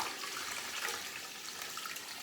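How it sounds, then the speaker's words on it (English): Water pours steadily into a large soup pot holding chicken for broth, a faint, continuous hissing splash that stays even from start to finish with no voices. "Let's go ahead and put this water directly in here."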